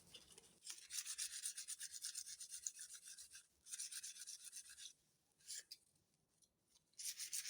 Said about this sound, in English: I'm going to take some very fine sandpaper and just slightly buff it